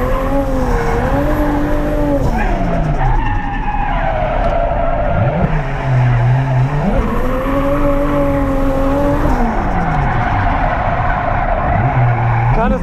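A Toyota JZX100 Cresta drifts at Ebisu with poor clutch and tires, its engine revving hard and dropping while tires squeal almost continuously, loud and close from inside the car.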